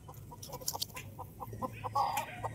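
Gamefowl roosters of imported Sweater and Jenkins lines cluck and call at a gamefarm, with a string of short, clipped bird calls and a few louder squawks over a low steady background hum.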